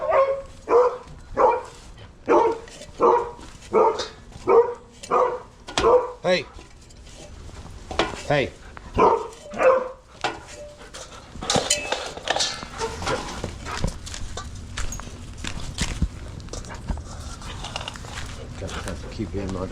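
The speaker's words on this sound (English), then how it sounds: "This old boy starts howling out here." A husky barks in a steady run of loud, close, evenly spaced barks and yowls outdoors in the early morning, then gives way to someone shouting and talking over scuffling noise.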